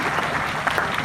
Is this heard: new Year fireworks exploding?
no